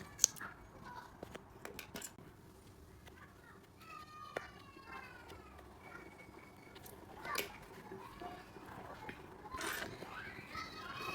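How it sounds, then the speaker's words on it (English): Scissors snip through crochet yarn while making a Minion amigurumi, a few short crisp cuts close by over a faint room background with some soft clicks. "And then we cut off the yarn."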